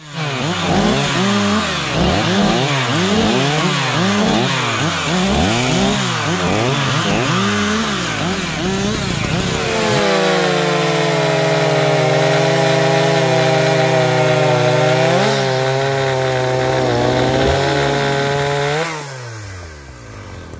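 A Husqvarna 180s chainsaw, a 53-year-old machine with a 50 cm bar, cuts through timber in a forest logging setting. The engine revs and bogs in a rhythmic pattern, then holds a steady high whine through a long cut before stopping, loud and close throughout.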